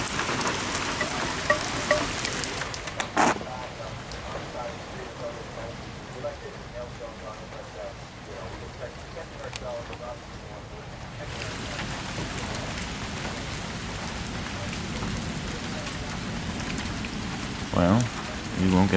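Moderate to heavy rain in a severe thunderstorm over Lincoln, Nebraska, a steady dense hiss of drops pattering on surfaces, with a couple of sharp knocks and a quieter patch in the middle before the downpour swells again.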